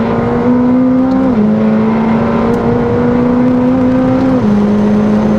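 A McLaren 765LT Spider engine accelerating hard on track, a loud, steady high-pitched drone that rises in pitch, drops at gear changes and climbs again.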